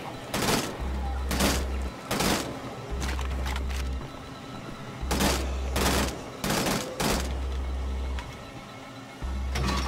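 Burst fire from a gun in Wolfenstein: The Old Blood: loud, sharp shots in quick pairs and short groups, repeating every second or two over a low rumbling drone.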